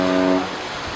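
A supertanker's horn honks loud and low, one long steady blast that cuts off partway, leaving a fainter tonal drone behind.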